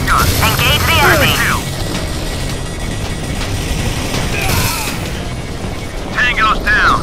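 Heavy booms and explosions mix with gunfire in the Modern Combat 4 mobile shooter game, a dense, loud barrage. Radio-style voices cut in near the start and end.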